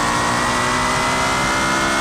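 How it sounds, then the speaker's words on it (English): Modded ETK S-Series luxury sedan in the BeamNG driving game revving its engine, a loud, sustained exhaust note that holds steady and close without any speech. "That has got to be one of the best sounding exhaust notes I've heard in BeamNG for a very long time."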